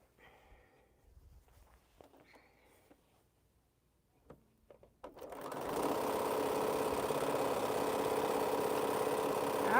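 A sewing machine stitches a seam on quilt blocks, starting after a few seconds of quiet handling and footsteps, then running loud and steady without pause to the end.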